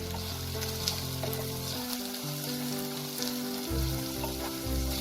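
Chicken with cumin, coriander, turmeric and Kashmiri red chilli powder sizzles steadily in a kadai, a close, even frying hiss with a few soft stirring knocks, no talking.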